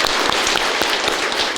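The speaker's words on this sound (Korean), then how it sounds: "박수 한번 하겠습니다." A church congregation claps together during a Sunday service, a short burst of dense, steady applause heard up close.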